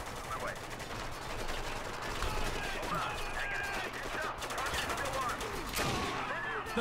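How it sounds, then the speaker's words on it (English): Bursts of automatic gunfire and single shots ring out in the war shooter game Spec Ops: The Line, rattling rapidly in the mid-distance, with voices talking through the exchange. "Oh, I hear gunfire."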